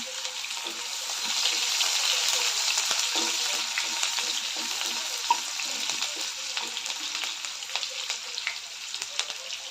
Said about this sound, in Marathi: त्यानंतर जिरे घालते त्यानंतर बारीक चिरलेला कांदा सर्व घालून चांगलं परतून घेऊया